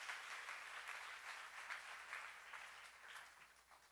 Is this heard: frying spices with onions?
no